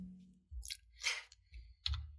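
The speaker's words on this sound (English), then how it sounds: "click on add a language" Several sharp, close clicks in quick succession from a computer mouse while changing keyboard language settings in Windows, set against a quiet room.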